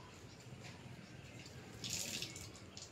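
Water poured out steadily onto garden soil beside a lychee tree, a faint continuous splashing trickle that swells briefly louder midway, with no talking.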